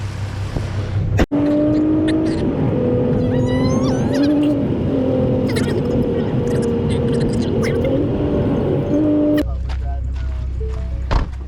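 A car with ribs cooking on its engine drives along, its engine note holding steady and loud with slight rises and falls, then dropping away to a low rumble near the end.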